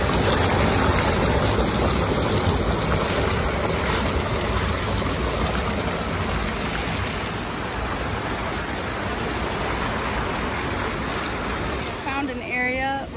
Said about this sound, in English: So like there's a whole dip right there in the creek because of the strong current.